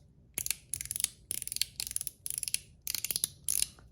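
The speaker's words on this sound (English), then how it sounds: "4 clicks." A Zirc One Pal mechanical fidget slider gives rapid bursts of sharp metallic clicks, heard as six evenly spaced clusters of several crisp snaps each, close and clear with no talking.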